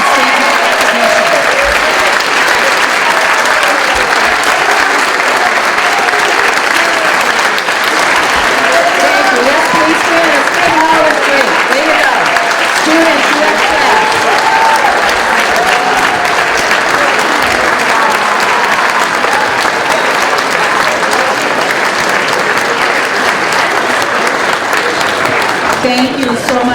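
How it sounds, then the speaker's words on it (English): Students and faculty at a school Veterans Day ceremony applaud and rise in a standing ovation, loud continuous clapping filling the hall with scattered voices and cheers mixed in. "let's give Mr. McLaughlin a huge applause and stand in recognition"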